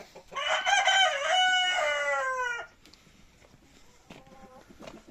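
One crow of over two seconds from a young ornamental rooster on a free-range chicken farm, close and clear, followed by quieter clucking and faint background noise.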